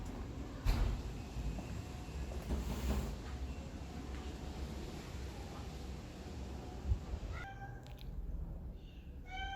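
A cat at a cat shelter meows a few times near the end, clear and fairly close, after a stretch of low background rumble and faint room noise.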